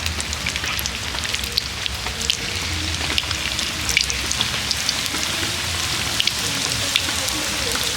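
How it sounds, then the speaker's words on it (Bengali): Continuous crackling sizzle of palm-fruit saptapuri pitha frying in hot oil, with scattered sharp pops over a steady hiss and no one speaking. "বাকি পিঠেগুলো একই রকমভাবে ভেজে নেব"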